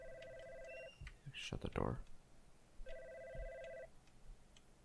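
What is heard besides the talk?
telephone ringing in video game God's Basement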